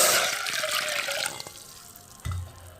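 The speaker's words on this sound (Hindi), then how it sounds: "2 कप हमने पानी ऐड किया।" Two cups of water splash into a pot for fenugreek seed tea, a loud close gush that tapers off, followed by a soft low thud.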